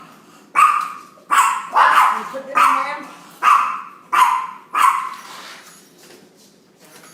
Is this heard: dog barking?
yes